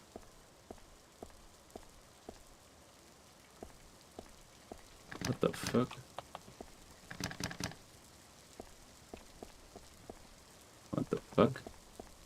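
Steady rain patters in the video game I See You, a soft even hiss with faint regular ticks, broken by sudden louder bursts as a voice exclaims over it twice.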